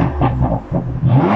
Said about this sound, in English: do you want to hear it from a little bit of revving now from the rear?